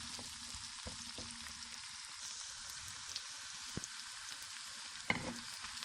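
Steady soft sizzling and crackling of onions frying in a pan, with occasional light clicks of stirring, no voices.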